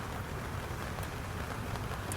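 Rain falls steadily in a dense, even hiss with no pauses, close and moderately loud, with no voices.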